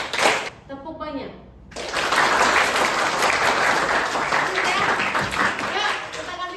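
A classroom group claps many times in rapid succession as part of a clapping game. A brief voice comes first, then a dense, loud burst of fast, scattered clapping runs to the end.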